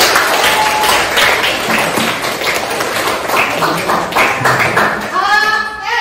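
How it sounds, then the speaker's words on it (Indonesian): A group applauds at the end of a class session, continuous scattered clapping mixed with overlapping voices and children chattering, fairly loud and close throughout. "Ya, tepuk tangan buat kita semua."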